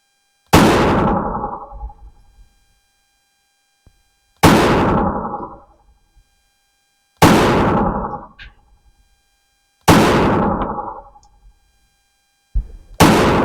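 Keltec P32 pistol, recently repaired, fired at a range: five loud, sharp gunshots spaced about three seconds apart, each with a short echoing decay, close to the listener and with no talking.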